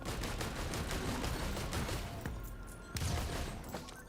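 A missile launcher fires in the video game Risk of Rain 2, giving rapid, dense volleys of popping shots over constant game noise, with a sharper blast near the end, fairly quiet overall.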